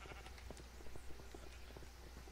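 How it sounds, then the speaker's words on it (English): Sheep bleating in Minecraft, several short bleats popping up over a steady background hum while a small flock follows the player. "I've already got this army of sheep following me"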